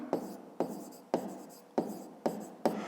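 Pen writing numbers on paper while a math exercise is solved, six short scratchy strokes in a steady rhythm, close and alone.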